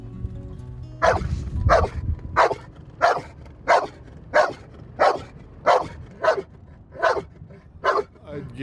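A shed-hunting dog barks in a regular series of about eleven sharp, evenly spaced barks, close and loud, after a brief low murmur at the start.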